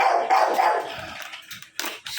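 A dog barks several times in quick bursts, fairly close and loud, with a short pause before a couple of sharper yips near the end.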